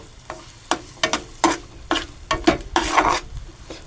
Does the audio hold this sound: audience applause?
no